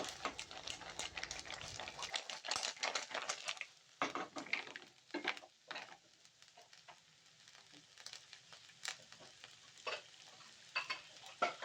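Spoon stirring shrimp and mussels simmering in coconut milk in a pot, giving quiet irregular scraping and sloshing strokes with brief pauses and a soft sizzle underneath.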